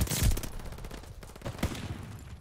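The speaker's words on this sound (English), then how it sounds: "Decoy grenade!" Rapid bursts of fake gunfire from a decoy grenade in Call of Duty Vanguard during a Hardpoint match on Demyansk, loud and close with sharp repeated cracks for a couple of seconds.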